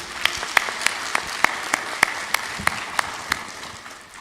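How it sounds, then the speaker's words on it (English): Applause for the speakers at a plenary session: soft crowd clapping underneath, punctuated by about a dozen sharp, evenly spaced claps from one nearby pair of hands, fading toward the end. "Big round of applause for this."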